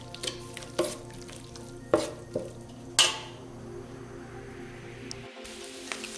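Discada ingredients sizzle in a pan in Chihuahua as a utensil stirs them, with a few distinct metallic clinks and scrapes over a steady frying hiss, close up with no talking.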